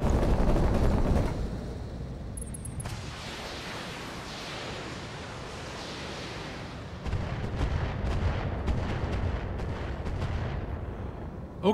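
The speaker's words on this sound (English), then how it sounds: "We'll take medium laser pot shots to the Owens." Medium laser shots fired by mechs in the BattleTech 3062 video game, booming blasts and rumbling game combat noise, loud at first and then a sustained roar with a second surge partway through.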